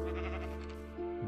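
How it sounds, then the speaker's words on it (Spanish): A sheep bleats in the Minecraft video game, one drawn-out wavering bleat followed by a shorter rising one, clear and fairly close with no talk. "Oh, veo una oveja a lo lejos."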